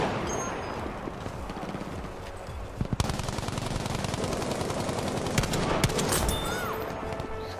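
Rapid bursts of automatic and single-shot gunfire from Battlefield 5 combat run continuously at close range, with sharp reports near the three-second mark and dense firing layered throughout.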